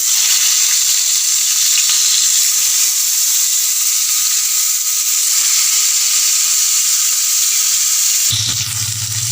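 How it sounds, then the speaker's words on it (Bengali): Parshe fish fry in hot mustard oil, giving a loud, continuous hissing sizzle close to the microphone that holds steady throughout, with a faint low hum appearing near the end. "এবার আমি মাছগুলো একটা একটা করে ভেজে নেব।"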